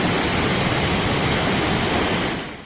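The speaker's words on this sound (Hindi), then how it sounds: "वाटरफॉल का पानी इतना ज्यादा था कि वो इतने दूर से भी हमको भिगा रहा था" Barpuda Waterfall in Kaprada pours down in a powerful flow, making a loud, steady roar of rushing water with no breaks.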